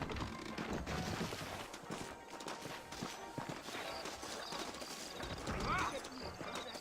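Horse hooves clip-clop steadily on a hard surface in the video game Red Dead Redemption, with a horse whinnying once, under murmuring voices.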